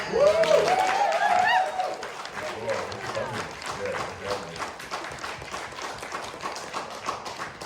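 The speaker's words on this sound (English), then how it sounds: "Round of applause." Audience applause after a panel at the Soul Shadows event, starting with a voice over the clapping and then settling into steady, moderately loud applause and tapping from a crowd for several seconds.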